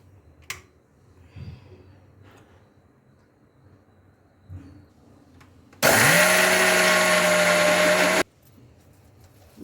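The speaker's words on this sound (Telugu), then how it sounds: "అవి మిక్సీ పట్టాలండి. మిక్సీలో వేస్తున్నాం." A mixer grinder blends soaked rice in a short loud whirring burst of about two and a half seconds, preceded by quiet handling knocks and clatter.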